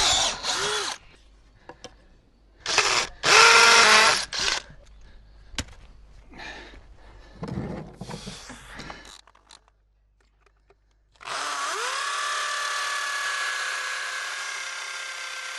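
An electric drill bores into material on a farm, running in short loud bursts with pauses and scraping knocks, then a steady high whine near the end, with no talking.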